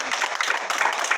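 Applause fills a church service before a youth testimony, a dense, steady wash of many hands clapping at once that stays even in loudness for the whole stretch.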